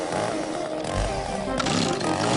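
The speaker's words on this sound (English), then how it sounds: "They're operating a chainsaw." A chainsaw cuts trees in the woods, its buzzing engine droning continuously at mid distance with faint clatter.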